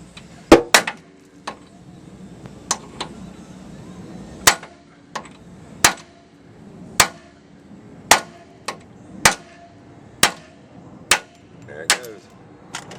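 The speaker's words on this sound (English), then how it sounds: "I'm gonna knock the piss out of that with a hammer" Sharp metallic hammer blows strike irregularly while knocking out a riveted ball joint on a 2000 Dodge 1500, about a dozen loud bangs spaced a second or so apart, ringing briefly over a quiet background.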